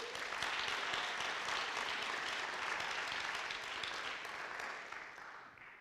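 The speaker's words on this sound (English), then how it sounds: "Let's give another round of applause." An audience at a poetry reading applauds, a full, steady patter of clapping from a small crowd that gradually thins and fades toward the end.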